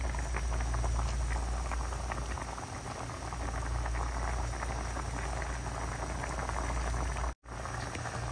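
Pot of sinigang broth with added milkfish boiling on a stove, a steady close bubbling and simmering with constant liquid patter and no talk.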